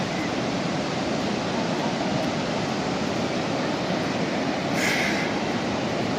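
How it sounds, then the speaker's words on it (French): Steady broadband roar of ocean waves breaking on a surf beach at Biscarrosse, a dense continuous wash with no pauses and no voices. "Avec les vagues qu'il y a."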